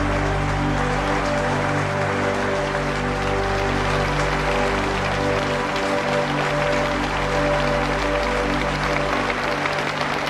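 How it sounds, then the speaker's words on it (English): A huge cricket crowd applauds as the Australian opening pair walk out, a continuous distant roar of clapping over a steady hum, even and unbroken for the whole stretch. "And the applause from the huge crowd as the Australian opening pair, Woodfull and Ponsford, make their way down to the gate."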